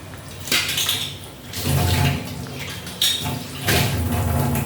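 A metal lid clanks down onto a pot of simmering potato and pointed gourd curry, with a few sharp, close knocks and rattles of cookware over a low kitchen hiss.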